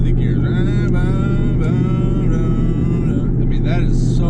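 A 2019 Mustang GT convertible with an automatic transmission rumbles loudly from inside the cabin, its deep V8 note rising and then dropping at each upshift, several quick gear changes in a row.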